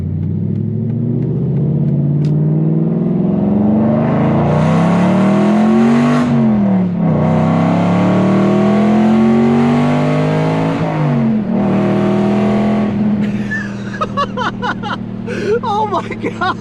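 An Aston Martin V8 Vantage with high-flow cats and a muffler delete revs loudly and deeply, its engine note climbing and falling in several long pulls, with excited talking over the end.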